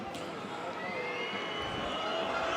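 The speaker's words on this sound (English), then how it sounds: "The crowd cranking up the volume." A rugby stadium crowd at a Toulon versus Stade Francais Top 14 match swells into a broad, steady roar of cheering, heard at a distance beneath a commentator's voice.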